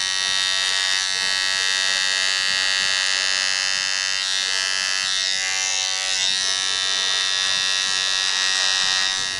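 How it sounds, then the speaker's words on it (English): An electric shaver trimming thick hair during a boy's haircut: a continuous bright, high-pitched buzz held close to the microphone, steady throughout with slight changes as it moves over the hair. "I'm just going to go with this shaver and I'm going to knock down some of these heavier areas that are thicker hair that might show"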